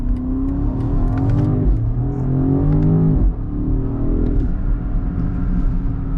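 A 2023 BMW X7 M60i with a twin-turbo mild-hybrid V8, in Sport Plus and manual mode, pulls hard from inside the cabin, its engine note climbing through two quick upshifts in a continuous, strong roar.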